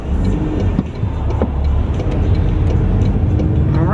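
Car cruising on a freeway near St. Louis, Missouri: a steady, dense road-and-engine rumble inside the cabin with faint ticking, continuous and fairly loud throughout.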